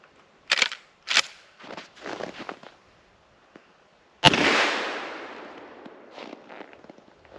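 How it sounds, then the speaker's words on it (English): A Marlin rifle firing .357 Magnum hunting shack ammunition: a single sharp, loud report with a long fading tail, preceded and followed by faint clicks, footsteps and handling noises. "String 5 is the Marlin hunting shack ammo."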